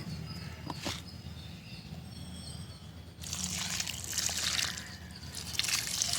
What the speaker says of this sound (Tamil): தண்ணி கொடுத்துடலாம்